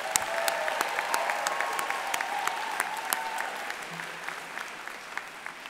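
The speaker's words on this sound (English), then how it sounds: "Graduates, please join me in giving a round of applause for all of your family and friends." Steady, full audience applause at a fall university commencement ceremony, dense clapping from a large crowd, fairly even and sustained with no talking over it.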